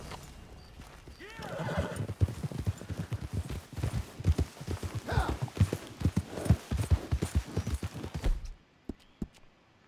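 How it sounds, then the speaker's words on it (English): Horse in Red Dead Redemption 2 trotting with quick, rhythmic clip-clop hoofbeats and a whinny, loud and close, then stopping near the end, with a voice speaking briefly over it. "Caballo."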